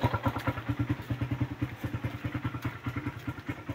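A Suzuki Raider 150 motorcycle engine with a noise fault, picked up close through a stethoscope, gives a rapid steady knocking and thumping pulse, muffled and continuous with no talk.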